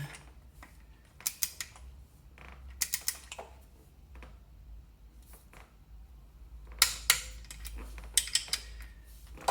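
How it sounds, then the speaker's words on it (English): Torque wrench tightening crash slider bolts on a Triumph Thruxton R motorcycle, giving several sharp, brief metallic clicks in small clusters against a quiet workshop background. "Now I'm going to take my torque wrench and just get them to the right spec."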